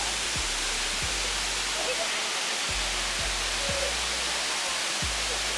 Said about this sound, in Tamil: இதுதான் பாத்தீங்கன்னா அந்த வாட்டர் ஃபால்ஸ்.